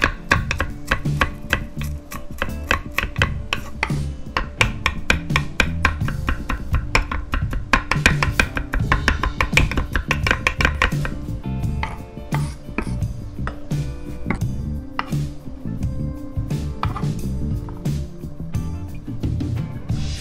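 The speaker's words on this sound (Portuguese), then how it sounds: "picar um pouco de salsinha, que vai dar aquele toque de frescor à carne" A knife chops parsley on a cutting board in rapid, rhythmic taps, dozens of crisp close knocks with brief pauses, continuing steadily throughout.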